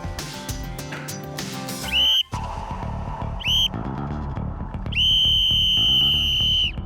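A shrill whistle blown to gather children at a children's camp in Kalush blasts three times, the last blast long and sustained, cutting over busy background music.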